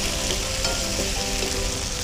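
Paneer frying in a pan for Shanghai paneer, a steady dense sizzle with faint stirring scrapes running continuously and fairly close, no voices.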